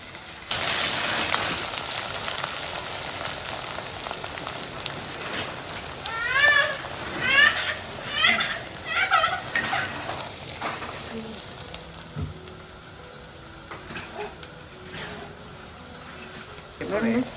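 Green chilies and onions frying in oil in a pan for home-cooked chicken biryani, a steady close hiss and crackle with brief louder sputters, while someone talks over the cooking.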